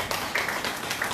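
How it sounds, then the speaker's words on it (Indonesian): A church congregation claps together during a Sunday service, a dense, steady wash of hands lasting about a second with no speech over it. "Kita tepuk tangan dulu untuk Tuhan Yesus."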